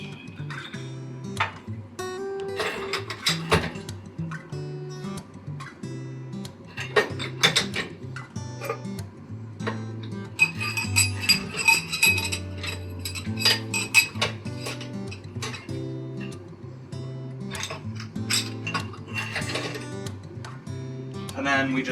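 Steel parts of a formation chamber clinking and knocking together as it is assembled for producing steel from lunar regolith, intermittent metallic taps and clanks spread throughout, mostly under steady speech.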